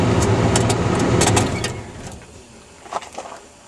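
A 1978 Mercury Grand Marquis engine with a newly replaced ignition coil and module runs with a loud, rough, broadband roar that eases to a quieter idle, with a couple of small knocks near the end.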